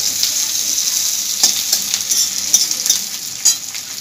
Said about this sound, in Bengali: পেঁয়াজটাকে খুব ভালো করে আমি ভেজে নেব